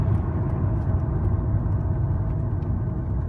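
A BMW 840Ci V8 accelerating, heard from inside the cabin as a steady, close, low engine rumble and whir that holds at an even level.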